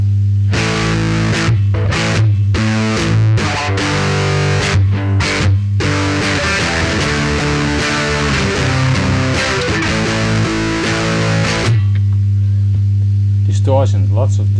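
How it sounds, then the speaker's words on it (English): An electric guitar plays heavily distorted chords and notes through a distortion preset on a Digitech RP50 multi-effects pedal, loud and harsh, with a steady mains hum that stays exposed when the playing stops near the end. "Distortion, lots of distortion in the preset effects."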